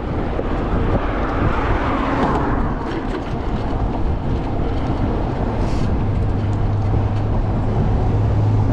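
Headwind roaring across the microphone while riding an e-bike over a bridge, a loud, steady rumbling buffet that fills the whole stretch, with a faint low hum underneath.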